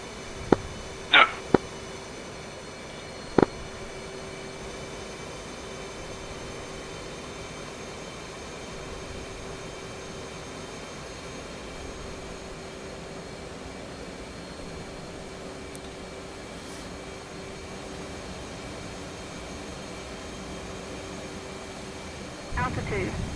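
Steady jet engine drone from a flight simulator game, with jets flying in formation at 350 knots and 3000 feet, holding constant throughout with a few sharp clicks early on and a slight swell at the very end.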